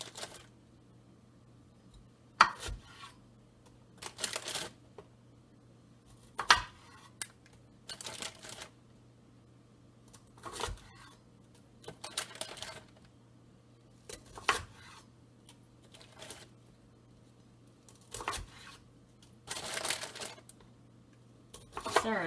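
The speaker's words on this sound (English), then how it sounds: "I love Brussels sprouts, and I just half them" Brussels sprouts are cut in half with a knife, giving a series of sharp, close cuts and thumps on the board at irregular intervals, each a second or two apart, over a faint steady hum.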